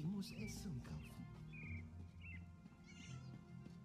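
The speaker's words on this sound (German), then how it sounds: "Oh, Katze." A cat in the Elder Scrolls Online game meows several times in short, rising calls, mixed with birdlike chirps and game ambience while a German-speaking voice talks over it.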